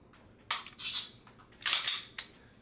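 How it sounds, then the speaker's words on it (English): Pistol trigger pulled during dry-fire training, giving sharp, close snapping clicks in two pairs with quiet pauses between them and no talk. "just putting on target and pulling the trigger"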